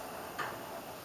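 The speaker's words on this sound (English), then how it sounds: "And then you turn on the flame" A gas stove igniter gives a single short, sharp click while the burner is lit in a home kitchen, faint and alone against quiet room tone.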